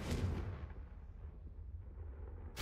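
A Confringo spell blast in the video game Hogwarts Legacy hits as a single booming explosion at the start, then a rumbling tail decays over a couple of seconds.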